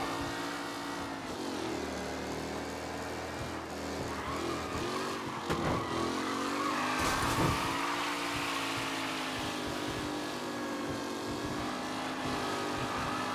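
Several race cars in Mafia: Definitive Edition roar together in a steady, layered engine drone, with a few louder passes and revs rising from the mix and no pause in the noise.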